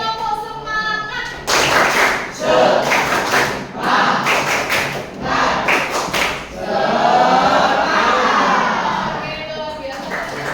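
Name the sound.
class doing the rhythmic 'tepuk semangat' clapping chant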